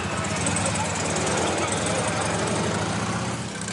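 Police Harley-Davidson motorcycle engine rumbling steadily and loud throughout, with a dense low throb and broadband roar, in a busy street setting in Seoul.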